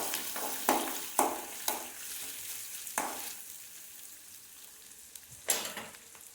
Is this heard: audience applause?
no